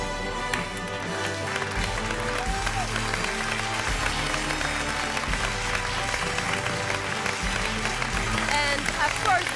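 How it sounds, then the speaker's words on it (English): Audience applause at a classical music competition semifinal: sustained dense clapping from a crowd in a hall, with music or announcement sounds mixed underneath throughout. "And of course, big applause for Theo."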